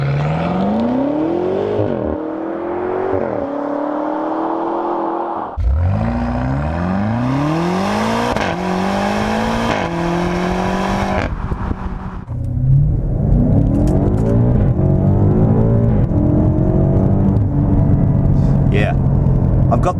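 A 2018 BMW M5 F90 accelerates hard to 100 km/h, its engine loud and close, climbing through rapid gear changes as the pitch repeatedly rises and drops, with a deep rumble underneath.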